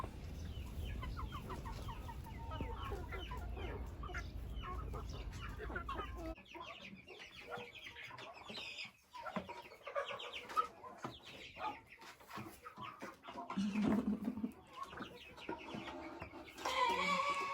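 Hens cluck and fowl calls sound intermittently in a backyard coop, close and moderately loud, with a low rumbling background over the first few seconds and no talking.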